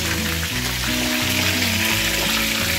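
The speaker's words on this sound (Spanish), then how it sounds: "Vamos a dejar que nuestras alitas se doren por partes." Chicken wings browning in a frying pan, a dense, even sizzle of hot oil that holds steady and close throughout.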